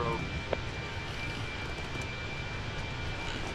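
Steady cockpit drone of an easyJet airliner cruising at high altitude over northern Italy in Microsoft Flight Simulator 2024, a continuous engine and airflow hum with a faint tone, constant and unbroken throughout.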